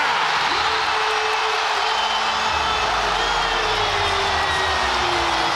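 A Boston basketball crowd roars after a clutch three-pointer, a dense, loud wall of cheering and applause that holds steady throughout.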